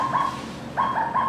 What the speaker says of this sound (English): So here's that same owl sounding like, you know, a ghost or a Tweety bird or